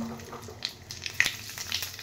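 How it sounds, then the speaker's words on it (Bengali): Black cumin seeds dropped into hot oil left from frying fish, giving a close crackling sizzle with a few sharp pops over a steady hiss. "এবার মাছ ভাজার তেলেই"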